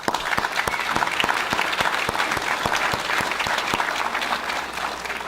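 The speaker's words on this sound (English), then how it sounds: "I'd like for us to give you a round of applause for your support" At a police recruit graduation, the audience applauds family, friends and supporters in a full, steady ovation, with a few loud claps standing out close by.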